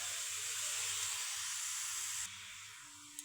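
Cabbage sizzles and hisses steadily as it fries in a pan for homemade veg momos, a soft continuous crackle that drops a little quieter partway through, followed by a small clink.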